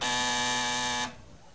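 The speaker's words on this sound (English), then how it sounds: "Did I not just say don't buzz until I finish asking the question?" A contestant hits a game show buzzer, sounding one loud, harsh, steady electronic buzz for about a second before cutting off abruptly into quiet studio room tone.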